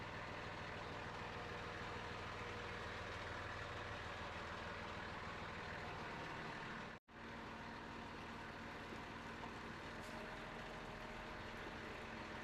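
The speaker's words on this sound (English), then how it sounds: "I'm gonna run the pump so I get glycol coming out of my hose reel." A GapVax MC vac truck runs its pump to push glycol through the hose reel, giving a steady low engine and pump drone with a brief cut midway, constant and close, no talk.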